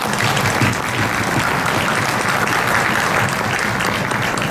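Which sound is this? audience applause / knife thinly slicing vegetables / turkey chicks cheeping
audience applause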